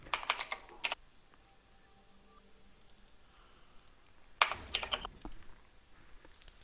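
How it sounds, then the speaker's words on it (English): Fast bursts of typing on a mechanical computer keyboard during a game, close and crisp clattering in two separate flurries with a quiet gap between them, no voices over it. "That's one impressively mechanical keyboard you have there, Mr. Monkey."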